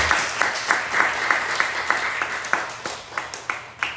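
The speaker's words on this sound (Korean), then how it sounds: "우리 하나님께 영광의 박수 한번" A church congregation claps in steady, rhythmic applause for a new member, sharp beats landing roughly every third of a second, close and moderately loud with a faint background hum.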